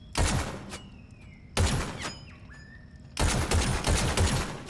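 Three bursts of rapid automatic weapon fire from a sci-fi horror video game, loud and close, each lasting about a second with short pauses and faint electronic tones between them.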